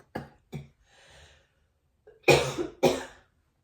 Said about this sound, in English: I'm a little bit sick right now, so I'm just coughing a little bit.